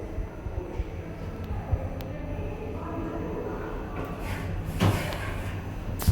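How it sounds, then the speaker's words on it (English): A hydraulic glass passenger lift in Tunbridge Wells hums steadily as it settles, then its doors slide open with a soft thud and a brief rattle near the end. "Floor 0. Lot 0. Doors opening."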